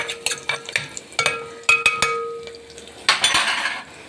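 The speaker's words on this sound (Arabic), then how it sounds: "حطينا حبه زيت وحطينا بصلايه شوحناها كده." Onion sautéing in a little oil in a pot as a base for homemade KFC-style basmati rice: soft sizzling under repeated scraping and clinking of a utensil stirring against the metal, in short irregular strokes.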